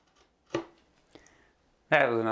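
A knife scoring a line into wood stock while preparing shadowbox pieces, heard as two short close scraping strokes about half a second apart, followed by a loud sustained tonal hum.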